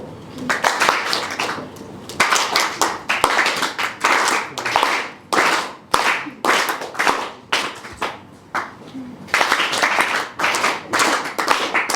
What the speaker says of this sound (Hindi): ये साइड प्रॉम्प्ट करूँ तो ये साइड ताली बजाएगी